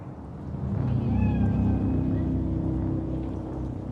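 A cat meows a few times in Cyberpunk 2077, brief, high and fairly faint, set over a steady low engine-like rumble that runs throughout.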